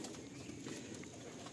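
Pigeons in a rooftop loft, soft low cooing heard faintly over a steady background hiss.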